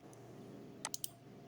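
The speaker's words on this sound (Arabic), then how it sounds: "تضغط انتر من الكيبورد" A computer keyboard clicks quietly in a hushed room, three quick, crisp key presses in a row, close and brief, the first slightly louder than the others.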